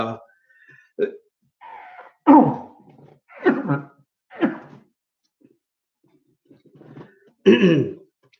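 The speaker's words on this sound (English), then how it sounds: "I'm not crying, just the coughing" A person coughs and clears their throat repeatedly in irregular bursts, with short pauses between fits, close to the listener.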